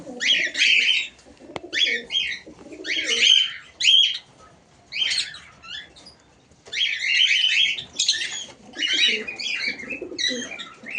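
Caged pigeons dry off after a bath, with bursts of close chirps and soft coos coming in irregular clusters over quiet pauses.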